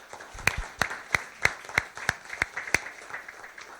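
About ten evenly spaced claps ring out in a steady rhythm at an awards ceremony, crisp and fairly close, with no talk over them.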